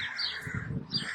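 Crows calling outdoors at a Welsh holiday spot: a few harsh, raspy caws in quick succession, moderately near, over faint background ambience, with no talking.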